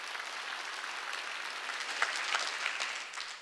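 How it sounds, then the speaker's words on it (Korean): Congregation applause during a Wednesday church worship service, steady dense clapping from many people, fairly faint and distant, with a few sharper claps standing out near the end. "박수치라고."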